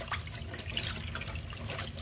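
A fabric chest binder is scrubbed by hand in a sink of water, giving soft, continuous sloshing and trickling with small splashes close by, no talking.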